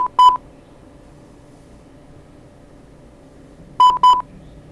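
Homemade low-battery level alarm sounding short electronic beeps: one brief double pulse, a long pause, then another pair of quick beeps, clean and close over a faint hum.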